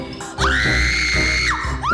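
A person on the Pinoy Big Brother Celebrity Collab Edition show lets out a loud, sustained high-pitched scream lasting about a second, followed by the start of another shriek, close and alone.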